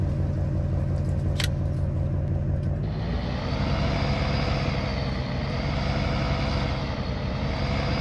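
A Chevy Duramax diesel pickup truck with an Allison transmission idles in Farming Simulator 19, a steady low rumbling drone that steps up in pitch and intensity partway through and holds there, close and continuous.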